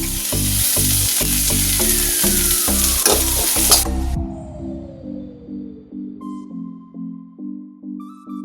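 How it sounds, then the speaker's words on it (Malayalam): Curry leaves hit hot oil in a pan of cowpea and long bean mezhukkupuratti, setting off loud, crackling sizzling with stirring that slowly settles into a softer fry. "ഇനി നമുക്ക് കറിവേപ്പില ചേർത്ത് കൊടുക്കാം."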